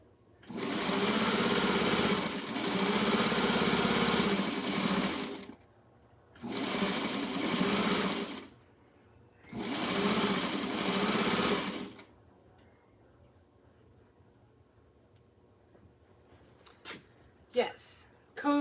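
A sewing machine runs a seam in three loud, close bursts of steady whirring stitching, separated by short pauses, then stops, leaving a quiet room with a few small clicks.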